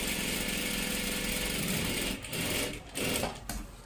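A sewing machine stitching right along the folded edge of fabric for a top and salwar, humming loudly and continuously, then briefly pausing and restarting in short bursts near the end.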